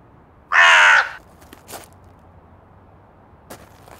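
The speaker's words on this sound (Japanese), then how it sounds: "カラスが鳴くから" A crow lets out a single harsh caw, loud and near, followed by quiet with a few faint clicks in the background.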